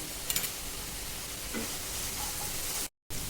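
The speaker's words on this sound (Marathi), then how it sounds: "आता या वाटणला छान तेल सुटेपर्यंत आपण भाजून घेणार आहोत एक पाच ते सात मिनिट" Masala paste frying in oil for spicy brinjal, a steady soft sizzle with a few faint stirring clinks, no talk, cut by a brief drop to silence near the end.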